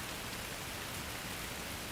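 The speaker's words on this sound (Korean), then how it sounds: "유리 없는 창문으로 들이치는 빗소리를 들으며" Rain pours in through a glassless window as a dense, even hiss that holds steady throughout, with no voices and no pauses.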